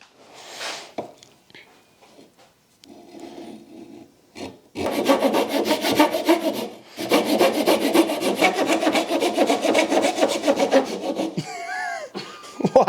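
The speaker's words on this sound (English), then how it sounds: "Handsaw it is." A handsaw cuts through scrap wood salvaged from a dump, its steady back-and-forth strokes loud and close, with a short stretch of lighter scraping before the sustained rhythmic sawing.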